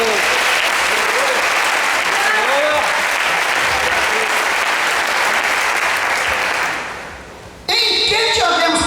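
A church congregation claps for Jesus in a sustained, dense wash of applause with voices mingling, fading near the end before a brief burst of other sound cuts in.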